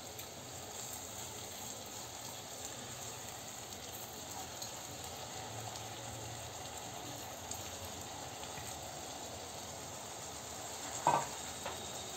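Washed rice tipped into a pan of sautéed wal papdi vegetables and stir-fried, giving a steady, even sizzle throughout with one brief utensil clatter near the end.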